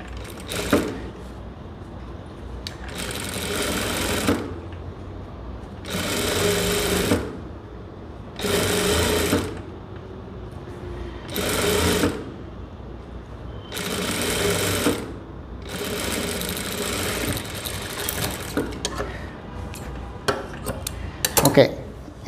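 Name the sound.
sewing machine stitching a blouse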